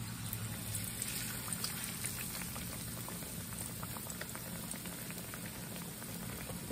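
A beer-battered tilapia fillet frying in hot oil, giving a steady, dense crackling sizzle that continues evenly throughout with no talking.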